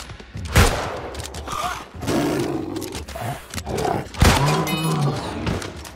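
Musket shots in the New World video game, a few sharp loud bangs spaced apart amid game combat sounds and creature roars.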